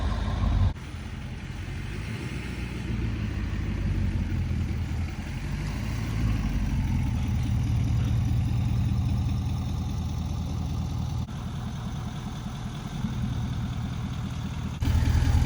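A wrecked Ford 6.7 Powerstroke diesel truck cruises slowly down a street, its engine a steady, close, low rumble with no talking.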